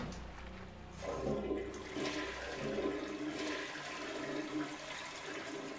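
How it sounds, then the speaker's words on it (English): A toilet flushes with a loud, steady rush of water that keeps going for several seconds and stays close. It is one of several toilets in a school being flushed to raise the water level. "I gotta flush all the toilets so the water level rises"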